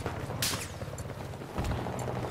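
Distant gunfire and a booming shot in a Battlefield 4 multiplayer battle, muffled cracks and low rumbles over a dense, continuous background din.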